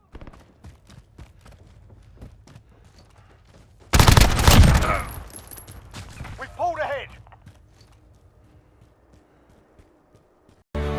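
Claymore explosion in the Call of Duty Modern Warfare beta, a sudden loud blast that decays over a second or two, preceded by light footsteps and followed by a short voice sound.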